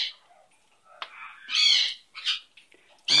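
A pet bird gives a string of shrill calls and whistles that rise and fall, with brief pauses between them and a sharper cry at the end.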